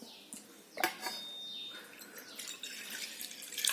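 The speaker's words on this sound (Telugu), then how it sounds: "కొద్దిగా వాటర్ వేసేసేయండి" A little water splashes and trickles into a pot of raw bananas being readied for boiling in a pressure cooker for aratikaaya anti pulusu, with bright drips and a brief louder pour.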